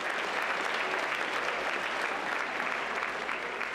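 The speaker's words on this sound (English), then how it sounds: "Give her a round of applause," Sustained audience applause fills a stage show, steady and dense throughout with no clear talk over it, the crowd clapping evenly at moderate distance.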